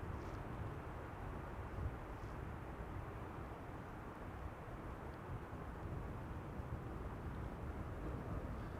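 A Boeing 737-900 airliner arriving to land at Amsterdam Schiphol, heard from beside the runway as a steady, broad jet roar that holds constant throughout without any voices.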